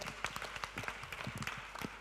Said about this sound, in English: big round of applause for Barca